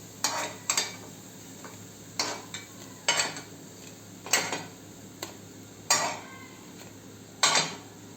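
Cooked appe being lifted from an appe pan, with a series of sharp metal scrapes and clinks of a utensil against the pan, spaced out every second or so under a faint sizzle, close and with no talk.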